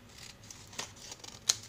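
Scissors snipping paper for a symmetry craft: a few quiet, crisp cuts spaced out, with one sharper snip near the end, heard alone.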